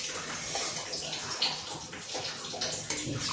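Beetroot water poured into a pan of moong dal gravy on the stove, a continuous close splashing pour that runs the full length, with no talk over it.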